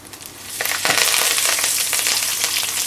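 Cumin, mustard seeds, ajwain, fenugreek seeds and curry leaves hit hot oil for mirch ka salan, setting off a loud, close crackling sizzle that builds within the first second and keeps spitting steadily, with no voices.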